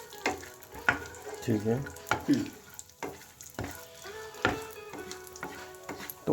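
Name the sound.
sautéing mathri pieces in a pan until lightly golden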